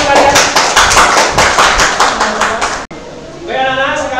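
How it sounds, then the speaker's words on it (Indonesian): Students clapping together in a physics classroom, a loud, fairly rhythmic run of close claps that stops abruptly, followed by a teacher speaking. "Ya semuanya berikan tepuk tangan untuk 4 teman kalian."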